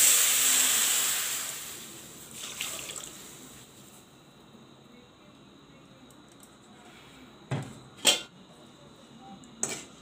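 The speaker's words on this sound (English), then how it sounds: "Now I will add the milk." Milk is poured into a pan of ghee-roasted vermicelli for kheer, a hissing, splashing rush that fades over a few seconds into quiet, followed by a few brief, sharp clinks.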